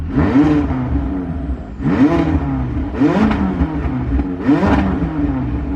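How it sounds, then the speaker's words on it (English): A 2020 McLaren 600LT V8 engine revs four times in a row, each burst climbing and falling back to a loud, rumbling idle between blips. "Let's rev that V8."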